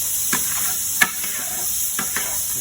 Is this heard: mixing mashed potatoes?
yes